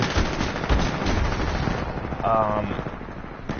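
Automatic assault rifle fire from the shooter game Titanfall 2, rapid bursts crackling loudly and steadily throughout, mixed with game effects and a brief whirring tone.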